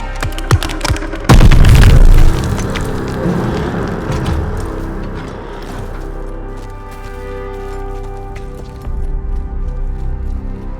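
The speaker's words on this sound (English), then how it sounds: "Grenade! Get down!" A grenade goes off in the Call of Duty: Vanguard shooter, a loud, close booming blast followed by a long rumbling, ringing aftermath under the game's ambient noise.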